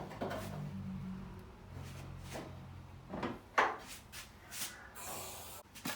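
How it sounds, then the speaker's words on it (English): Tailgate of an Austin Mini Metro under restoration being opened, a series of close, dull knocks and clunks with a sharper mechanical clack midway and a few lighter taps after. "if I just open the tailgate up"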